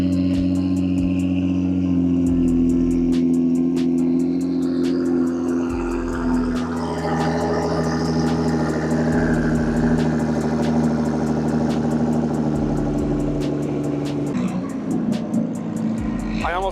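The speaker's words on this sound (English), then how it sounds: "Cold start." Nissan GT-R engine after a cold start at a drift event in Tokyo, idling with a steady low hum and rhythmic pulses; a voice talks over it in places.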